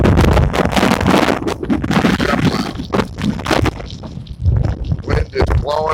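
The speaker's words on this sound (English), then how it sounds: "Wind is blowing hard." Hard wind gusts during a snowstorm buffet the microphone in loud, continuous roaring bursts throughout, with a voice speaking over the blowing.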